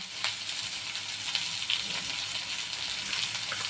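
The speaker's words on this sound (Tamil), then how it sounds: "கொஞ்சம் வதங்கட்டும் தக்காளி நல்லா கொஞ்சம் குழஞ்சி வரட்டும்" Tomatoes softening in hot oil with salt and turmeric for a mushroom gravy, giving a soft, continuous sizzle with faint stirring taps, fairly quiet and with no talk.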